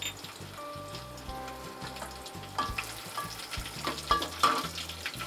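Six or seven garlic cloves fry in a hot tempering of cumin, mustard seed and hing, giving a steady, close sizzle with scattered crackles and pops that rise in intensity near the end.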